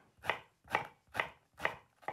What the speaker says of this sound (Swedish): nu har jag börjat med att hacka upp min lök och min sötpotatis